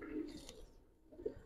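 A Giribaz pigeon gives a faint, brief coo, one low throaty call followed by a softer second one close by, otherwise quiet.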